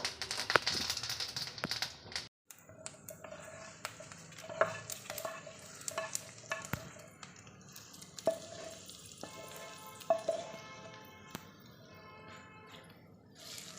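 A spoon stirs a milk kappa (tapioca) mixture with curry leaves in a pan, giving soft scraping and occasional sharp clinks of metal against the pan over a quiet background, with no talk.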